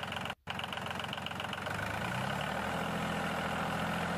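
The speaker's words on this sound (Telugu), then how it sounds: "సో దీంట్లో అయితే ఇప్పుడు దున్నాలి ట్రాక్టర్ తోటైతే" A mini tractor engine runs steadily while ploughing a levelled field, a continuous mid-pitched drone with a momentary break near the start and then an even, unbroken hum.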